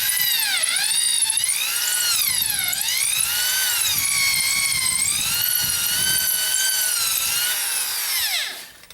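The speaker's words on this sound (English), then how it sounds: "I drill in a little bit and then pull it back out, because then you're cleaning it out as you go." A power drill boring a hole while fitting a security screen door, its pitch rising and falling in repeated swoops as it bites and eases back, running loud and steady for about eight seconds before spinning down.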